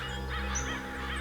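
Crows circle over a spot near some water, and a steady drone masks a few drawn-out caws.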